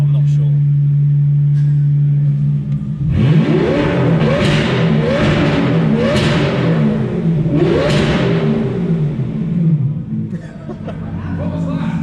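Straight-piped V12 BMW revving hard in repeated loud bursts, each rev climbing and falling back over a steady idle rumble, heard up close with a sunroof open; people murmur in the background.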